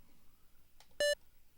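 A single short, bright electronic beep from the SNES game Mario Paint, sounding clearly for an instant after a faint blip against a quiet background.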